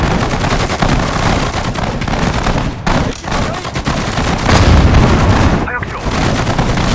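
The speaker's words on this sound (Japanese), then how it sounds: "目標に発砲せよ。" Gunfire in the strategy game Sudden Strike 4 set in the Pacific War, dense continuous bursts of rifle and machine-gun fire with heavy booms, loud and chaotic throughout.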